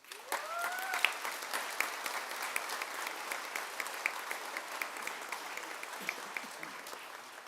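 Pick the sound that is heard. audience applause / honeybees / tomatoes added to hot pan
audience applause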